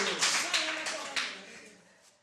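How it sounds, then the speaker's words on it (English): Small audience clapping hands for a young child, a few loud rhythmic claps at first that quickly fade away, close by with brief voices. "Can you clap hands for little one?"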